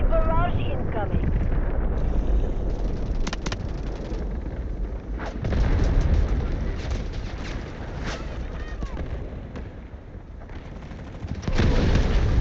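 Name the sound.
artillery barrage explosions in Delta Force video game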